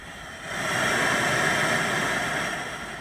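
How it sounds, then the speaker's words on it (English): Steady white noise hisses from a nearby front door speaker in a GMC or Chevy truck, swelling in after a moment and holding at an even level. "I just got some white noise here playing for you"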